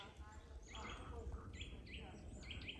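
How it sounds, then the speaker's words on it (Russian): Small birds chirp and trill repeatedly in an autumn forest on a frosty morning. The calls are moderately clear above steady background hiss, and no one speaks. "Птицы, слышите, там поют."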